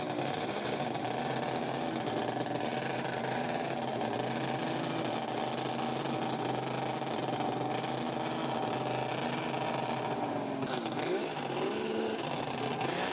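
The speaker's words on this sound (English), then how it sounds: "Let's warm this engine a little bit." A snowmobile engine in a video game idles and warms up with a dense, continuous buzzing drone that holds steady and loud throughout, with slight wavering in pitch near the end.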